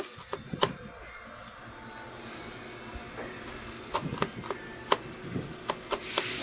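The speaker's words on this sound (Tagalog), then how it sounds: "maghiwa na tayo ng bawang. Isunod natin ang sibuyas." A knife chops garlic and onion for bitter gourd cooking, scattered sharp taps on a board, sparse at first and then quickening into an uneven run of close, moderately loud cuts.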